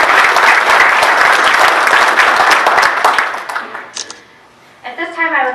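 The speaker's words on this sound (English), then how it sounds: "Let's give them another round of applause." Audience applause after a military aviation presentation, loud dense clapping from a crowd that fades out after about four seconds, followed by a brief voice.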